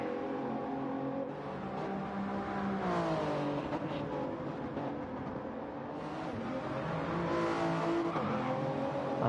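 A race car engine in a racing video game revs and shifts through a lap, with rising and falling pitch sweeps and brief tire squeal, loud and close throughout with no talk over it.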